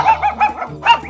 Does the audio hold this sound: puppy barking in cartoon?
yes